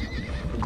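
A horse in the Star Stable video game neighs in a brief, dense burst of whinnying, loud and close, lasting under a second.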